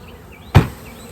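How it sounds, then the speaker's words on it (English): Honey bees buzz around an open nuc hive during a beginner hive installation, with one bee passing close for a brief, sharp buzz over a faint steady background hum. "Look at all these bees everywhere. It's like, wow, surrounded by bees."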